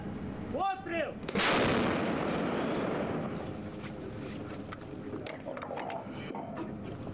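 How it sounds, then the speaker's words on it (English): An artillery gun fires a single loud, booming shot that rolls and echoes off into the distance for several seconds. A shout is heard just before it, and faint voices and clattering follow. "Постріл! Гармата! Постріл!"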